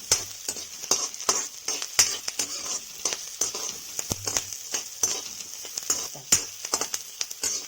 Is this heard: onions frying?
yes